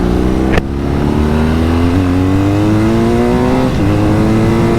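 Boxer twin engine of a BMW R nineT Scrambler motorcycle revs up loud and close, its droning pitch climbing steadily while riding, with a brief dip then continued rising tone.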